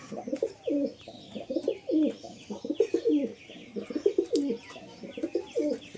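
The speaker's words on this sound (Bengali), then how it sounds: "এটা আমাদেরই পুরনো পায়রা, অনেক বয়স হয়ে গেছে পায়রাটা" An old domestic flying pigeon and others in a loft coo in repeated low, throaty rolling phrases, about eight in steady succession, close by, with faint chirps from other birds in the background.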